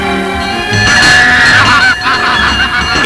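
Ducks on a farm at Lake Baikal, a loud dense flock quacking and honking together in a continuous clamor, close and steady throughout.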